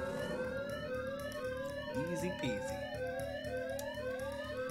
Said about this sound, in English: Just gotta wait for this really cool alarm system to get shut off